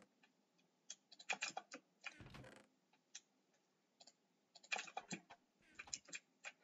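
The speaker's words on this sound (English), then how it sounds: "My keyboard's too loud, I'm sorry." Quiet, close computer keyboard typing in uneven bursts of clicky keystrokes, with a brief rustle midway, while playing Minecraft Skywars.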